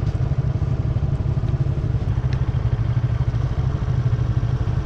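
A motorcycle engine runs steadily nearby, a low throbbing idle-like rumble with light mechanical clatter, continuous and alone without talking.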